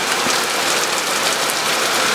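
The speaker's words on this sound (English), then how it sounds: "Now it's really raining." Heavy rain falls steadily outdoors, a dense continuous hiss of drops pattering on surfaces, close and even throughout with no pauses.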